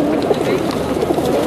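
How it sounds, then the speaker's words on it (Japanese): Pigeons cooing in Venice, a soft steady murmur of low calls amid a busy, crowded ambience with voices mixed in, fairly close and continuous throughout. "鳩が妙にね、人の近くにいますね。"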